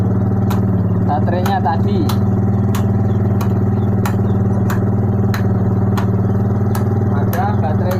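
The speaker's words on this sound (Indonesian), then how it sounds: "Langsung hidup ya motor ini." A motorcycle engine starts and idles steadily with a low, even drone while someone talks over it.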